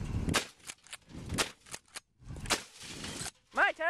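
A toy gun fires several sharp cracking shots in short bursts, near and loud, with people talking between the shots and a brief excited voice at the end.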